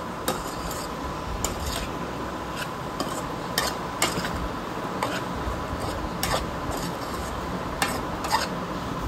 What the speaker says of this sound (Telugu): ఈ ముక్కలకు కూడా పట్టే విధంగా మొత్తం కలుపుకుందాము